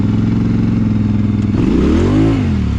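An ATV fitted with new mud tires revs hard, its engine note climbing and surging through a throttle blip partway through, loud and close with no talk.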